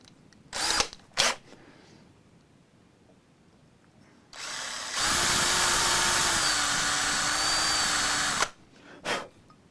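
A power drill whirs in two brief bursts, then runs steadily for about four seconds before stopping, with a short final blip; loud and close, drilling a Squier Bullet guitar.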